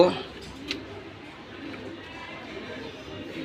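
A military pigeon pair coos in a low, soft, continuous murmur close by, with a brief burst at the start and a quiet background hiss.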